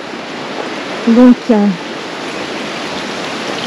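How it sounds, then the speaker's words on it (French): A small waterfall at the Neda falls in Greece, a steady close rushing hiss of falling water heard throughout, with a brief spoken word over it. "c'est une belle petite cascade là"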